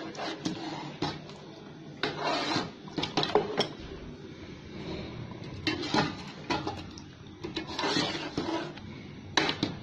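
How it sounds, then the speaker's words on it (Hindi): Yogurt being stirred into tender cooked meat in a pot for biryani: repeated scraping and clinking of a spoon against the pot in uneven bursts, close and fairly quiet. "अब हम ये दही इसमें शामिल करेंगे और इसको अच्छी तरह से मिक्स करेंगे"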